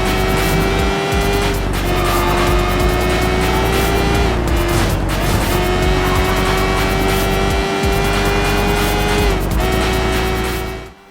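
Street race cars in Sleeping Dogs roar loudly with a sustained high engine whine, shifting pitch through gear changes, with brief tire squeals and skids, close and continuous until an abrupt cut.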